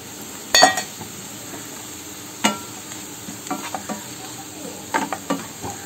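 Onion, potato and spices fry in a pan for masala bonda filling, a steady sizzle punctuated by several sharp clinks and scrapes of a ladle against the metal.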